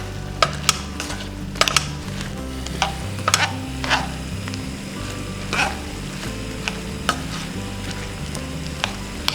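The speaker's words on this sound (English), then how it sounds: "I'm gonna add in my bacon and give it a final toss" Bacon tossed through brussels sprouts in a reduced cream sauce, a steady low sizzle under repeated sharp scrapes and clinks of a utensil against the pan, close and fairly loud, with no talking.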